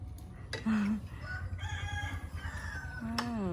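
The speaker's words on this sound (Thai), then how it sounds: "เสียงไก่ขัน" A rooster crows loudly nearby, twice, each a drawn-out rising and falling call, over a steady low background hum.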